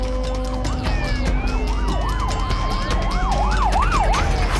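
Loud emergency vehicle sirens wail and yelp over steady traffic rumble at Bondi, Sydney, the rising and falling tones repeating rapidly, close by.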